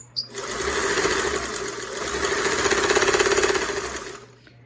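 A Singer 328k sewing machine stitches a tight center zigzag, giving a steady close-up whir with a fast rhythmic needle pulse that runs continuously for about four seconds with no talking.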